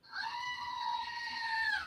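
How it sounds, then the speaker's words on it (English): A goat gives one long, loud scream lasting nearly two seconds, a steady harmonic bleat close to the listener with no talking over it. "And have you heard Gertie scream already"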